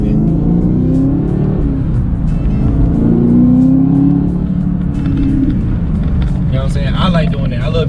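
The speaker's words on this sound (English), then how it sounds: "I like doing that. I love hearing the exhaust." Camaro ZL1 exhaust rumbling and revving as the car accelerates, a steady loud low drone throughout with someone talking over it.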